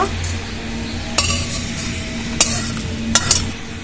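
Fried cumin seeds are scraped and poured out of a metal pan, with sharp clinks and scrapes of a utensil against the pan over a low background hum.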